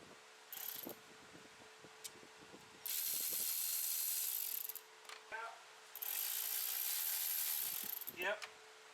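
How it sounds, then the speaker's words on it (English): A pick tool prying and wiggling fuel injectors out of a BMW N55 engine, with small scraping clicks and rattles, a few squeaks and long stretches of loud hissing noise between them. "you got to use a little pick tool to stick it between there and kind of pry it out a little bit and wiggle it out"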